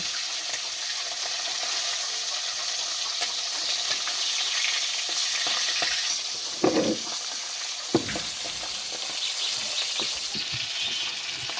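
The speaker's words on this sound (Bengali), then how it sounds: "মাছ ভাজা হয়ে গেছে, ওটা উঠানো হবে" Hilsa fish sizzles in hot oil in a pan, a steady close hiss broken by a couple of louder sputters and utensil knocks partway through.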